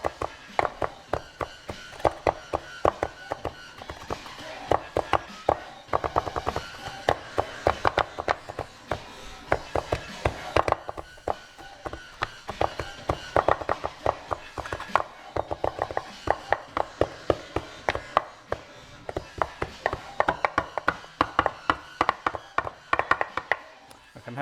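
A knife finely minces food on a cutting board in rapid, steady runs of sharp close taps that pause briefly and start again. The chopping goes on for a long stretch with light talk underneath.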